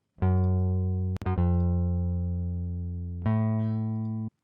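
A Rickenbacker-style bass line programmed in FL Studio plays clean, sustained electronic notes that follow the root notes, with one pitch change near the start and another about two-thirds of the way through, and no talk.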